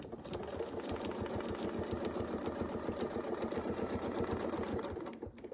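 Sewing machine stitching a Persian turrets quilt, running at a steady rapid clatter for several seconds before stopping near the end, with no talking.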